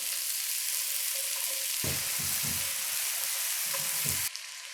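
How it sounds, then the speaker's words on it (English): Mushrooms, shallots and garlic sautéing in a pan over lowered heat, a continuous close sizzle with bursts of stirring and pan scraping, then quieter at the end. "to saute all this down. Let me turn this heat down a bit. Just until the mushrooms are giving up all of their juice"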